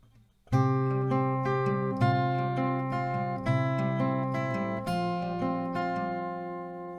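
Acoustic guitar picking the G melody of a song, bass notes ringing under plucked treble notes in a steady rhythmic pattern, close and clear with no talking.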